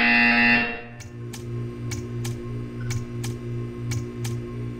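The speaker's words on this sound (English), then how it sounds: "You will hear a buzzer." A buzzer from the video game Bullet Holes sounds briefly at the start, then gives way to a steady low electronic hum with a series of sharp ticking clicks spaced about half a second apart.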